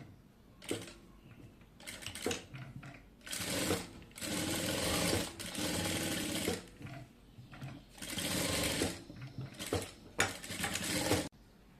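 A sewing machine stitches two fabric ribbons for a neck design, running in several loud bursts of rapid whirring separated by brief pauses, with no talking.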